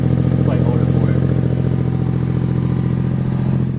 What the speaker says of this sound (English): And that exhaust sounds good